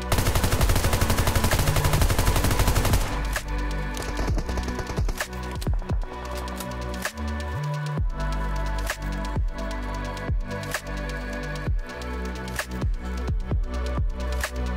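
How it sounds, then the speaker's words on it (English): A FAMAS rifle in the video game PUBG firing a dense burst of automatic gunfire, followed by a series of loud, sharp reload clicks and clacks spaced through the rest of the clip. "Here's a comparison for the full reload."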